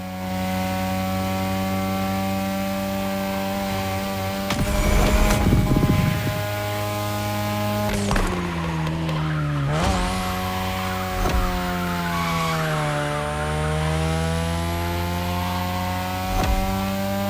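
A third-generation 2002 Mazda RX-7 with a rotary engine races in The Crew Motorfest, its buzzing engine note climbing and dropping through gear changes, with brief bursts of tire and road noise along the way.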